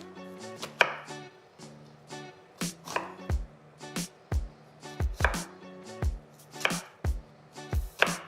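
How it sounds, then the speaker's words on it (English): Onions chopped on a cutting board with a knife, a series of sharp, close knocks in an uneven rhythm, about a dozen strikes with short pauses between them. "Okay, finished chopping up the onions."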